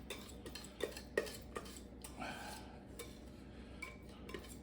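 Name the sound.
whisk scraping a pie filling out of a pot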